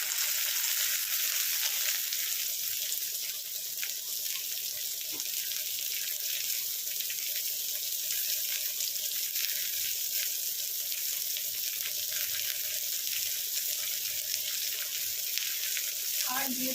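Whole spices spluttering and crackling in hot oil in a pan, a steady dense sizzle running throughout with scattered small pops, close and fairly loud, no talking.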